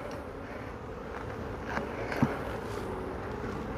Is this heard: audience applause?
no